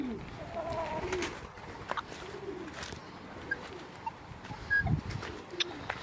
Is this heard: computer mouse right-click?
no